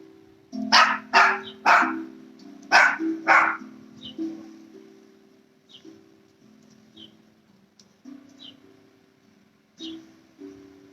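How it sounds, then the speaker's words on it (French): Dogs bark nearby in a quick cluster of loud, sharp woofs, followed by scattered fainter yips and barks over a low, steady hum. "Je suis encore désolée pour les chiens qui aboient."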